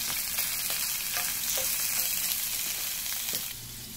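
Lobster tail fries in a pan with a loud, dense, continuous sizzle and scattered pops and crackles close up, easing slightly at the end, with no voices.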